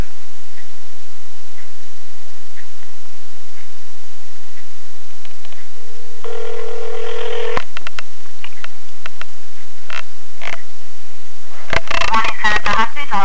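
A telephone call to a senator's office: a short dial tone and a quick run of keypad tones, then clicks and a ringing line, heard faint and close through a hissy channel.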